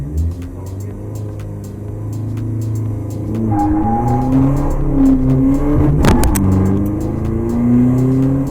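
A car engine on test during ECU tuning hums steadily, then revs up with rising and falling pitch swells, loud and close with a brief rushing burst near the end and no talk.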